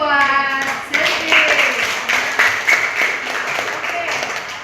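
A classroom of students claps hands for a classmate, a sustained patter of many hands that begins under a teacher's voice and continues at steady moderate loudness.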